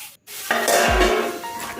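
Drumstick flowers fry in a pan on a low flame while being stirred, a steady sizzle starting after a brief gap, with a scrape of the spatula against the pan.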